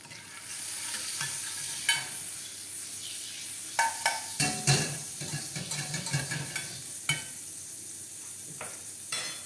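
Butter and olive oil sizzling in a pan for wild mushroom risotto, a steady close hiss punctuated by repeated scraping stirs and clinks of a utensil, with no talking.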